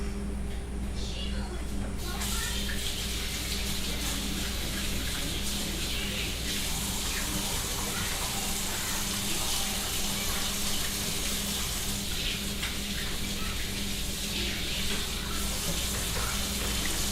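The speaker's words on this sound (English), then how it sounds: "let me wash my hands real quick" Tap water runs steadily into a sink as someone washes their hands in a home kitchen, a constant hiss that starts abruptly after a brief quieter moment and continues evenly to the end.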